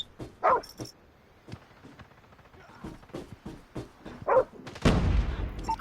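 A dog barks in a first-person shooter game: two bark bursts come a few seconds apart, and heavy gunfire-like blasts follow near the end, all over faint game ambience.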